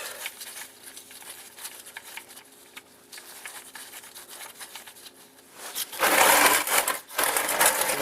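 Engine oil pours from the drain plug of a 2004 Mazda 6 2.3L into a bin: faint scraping and ticking, then a sudden loud rushing gush that briefly pauses and continues.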